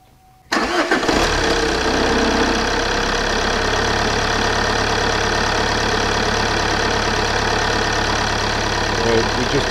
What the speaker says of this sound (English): We've just run the engine here now